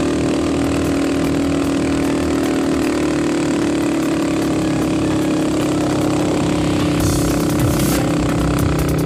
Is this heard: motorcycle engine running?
yes